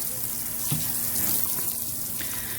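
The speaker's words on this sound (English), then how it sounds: "I'm going to water these in." Water poured over freshly sown plants in a container, a steady close splashing and trickling flow that continues throughout, with no speech.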